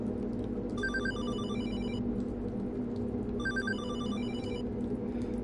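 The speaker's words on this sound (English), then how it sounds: "No electricity, but the phone works." An old telephone rings inside an apartment with no electricity in the horror game Hollowbody, two bursts of trilling bell rings separated by a pause, over a steady low ambient drone.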